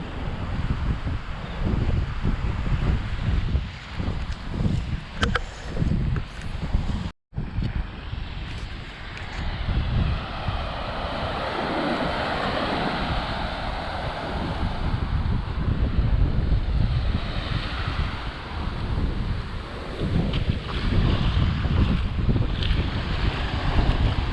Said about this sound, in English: Flying a paramotor to an abandoned island, part 1.